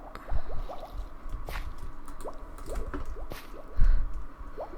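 A water bucket splashes in a video game: wet squishing and dripping bursts with small bubbly blips, quiet and scattered over a few seconds, one heavier splash near the end.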